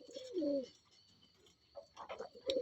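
Pigeons coo in short, throaty bursts close by while being fed wheat and ragi grain, with soft chirps and shuffling in between.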